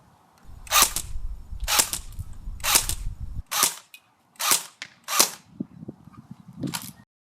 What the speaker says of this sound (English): So that was a shooting test of the beta Spetsnaz.